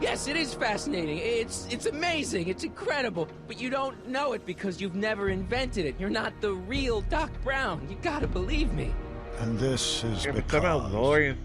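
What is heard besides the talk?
No distinct noise like a dog, phone or traffic.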